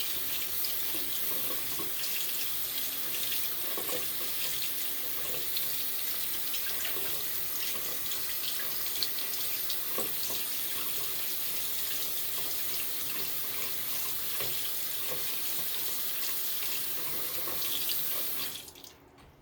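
Tap water runs steadily from a faucet into a sink while a charcoal toothbrush is rinsed, a continuous close hiss with small splashes that cuts off at the very end.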